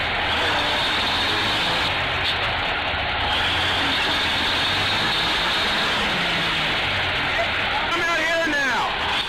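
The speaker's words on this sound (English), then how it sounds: "It won't take much time for the M818 tractor to get through this area." An M818 military tractor truck, a heavy tactical vehicle, runs with a loud, steady engine roar that fills the scene throughout, with a voice talking over it.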